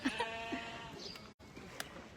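A goat at a farm gives a close, loud wavering bleat followed by shorter bleats, with faint background voices.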